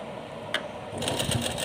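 A sewing machine starts up partway through and makes a short, fast, rattling run of stitches on a small summer dress for a Laddu Gopal idol, close and fairly loud, after a single light click.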